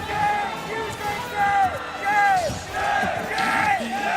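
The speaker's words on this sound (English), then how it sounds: "And the crowd getting hyped again." A crowd at a Canadian gaming tournament finals chants and cheers in repeated rising shouts, loud and full, with a commentator talking over it.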